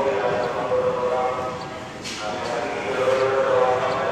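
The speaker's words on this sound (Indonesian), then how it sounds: "KRL tidak untuk penumpang akan segera pulang ke Depo Bukit Duri. Masuk jalur 2" Rumbling KRL electric commuter train, a former JR 05 series unit, moving past at a platform at Manggarai station, Jakarta, a steady low roar with humming motor tones and a brief swell midway.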